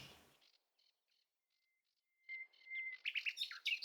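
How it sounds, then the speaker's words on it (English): A nightingale sings: a few soft, scattered chirps, then a long pure whistled note, then a burst of rich, rapid warbling phrases, clear and fairly close against a quiet background. "we are only able to enjoy the nightingale's song for a few short weeks"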